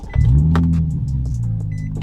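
A power window on an idling Infiniti G35 slides down with a steady electric motor whir over the low engine hum, close by and alone, ending in a brief thunk.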